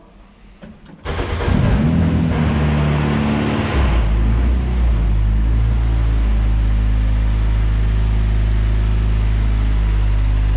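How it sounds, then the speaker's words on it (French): A Renault Clio Cup race car engine cranks and fires up, then settles into a loud, steady running drone with a deep low rumble that holds close and continuous to the end. "histoire de vous faire montrer comment ronronne le moteur Renault"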